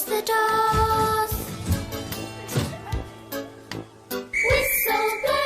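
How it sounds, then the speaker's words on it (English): A train engine's whistle sounds in a Roblox Thomas and Friends game: a loud sustained tonal blast, then shorter toots among clanks and rumbling. "Whistle blows and the engine roars."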